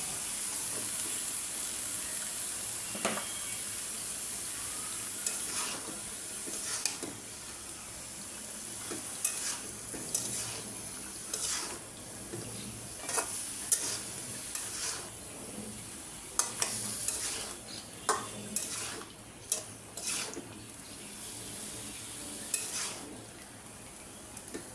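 Bottle gourd frying with fish heads in a pan gives a continuous sizzle, with intermittent clinks and scrapes of a spatula stirring against the metal pan, heard up close and without speech.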